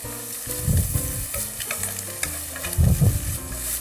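Seafood for a tomato seafood cheese rice is stir-fried in a small pan, a loud continuous sizzle with bursts of tossing and scraping.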